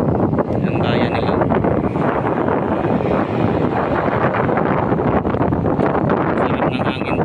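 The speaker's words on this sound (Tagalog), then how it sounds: "Sarap ng hangin to." Strong wind blasts across the microphone continuously by the sea in Santa Fe, Romblon, a loud steady roar and rumble throughout with faint talking underneath.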